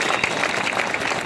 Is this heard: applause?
yes